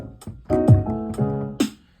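Short beat played live into Koala Sampler on an iPhone: a few punchy hits and pitched tones in a loose rhythm, close and clear, with no talking.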